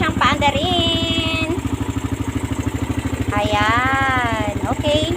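Raider 150 motorcycle engine just serviced with an oil change, idling with a rapid steady putter close by while someone talks over it.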